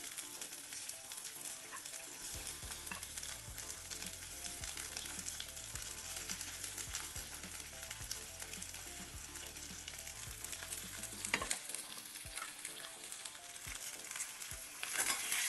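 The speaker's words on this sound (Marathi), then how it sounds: "अख्खा चिरलेला कांदा मी ऍड करते आहे यात।" Chopped whole onion, added to chillies in a pan for Varhadi chicken, sizzles and crackles steadily while being stirred, with occasional scraping of the spoon and a brief louder clatter near the end.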